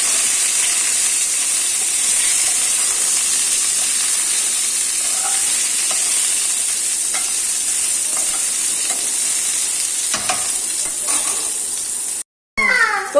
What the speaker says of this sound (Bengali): পটলগুলোকে একদম ডিপ ফ্রাই করতে হবে